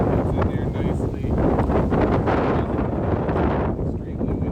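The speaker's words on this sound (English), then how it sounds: "Extremely windy day." Strong outdoor wind on an extremely windy day, a constant roaring rumble with gusts buffeting the microphone and no break throughout.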